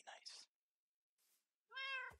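A Minecraft kitten gives a couple of soft in-game meows, separated by short silences, with a faint rustle between them.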